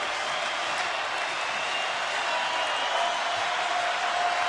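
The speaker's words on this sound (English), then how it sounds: "Crowd is on their feet." Baseball stadium crowd on its feet with bases loaded and a full count, a broad steady roar of cheering and clapping that holds even throughout, fairly distant and wash-like.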